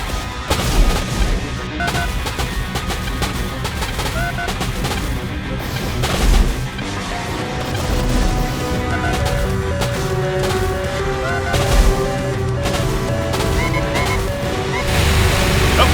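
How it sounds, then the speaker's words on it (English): Firebird aircraft trade gunfire in a dogfight, steady rapid bursts of shots rattling over a dense, continuous background of engines and battle noise, with heavier thumps scattered throughout. "We've got gun fire from the Firebirds, lighting that Lightbird on fire."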